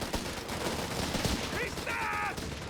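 Automatic weapons fire in the wartime strategy game Company of Heroes 3, a dense rattling fusillade of popping shots running steadily under the busy battle mix, with a brief whistling effect near the end.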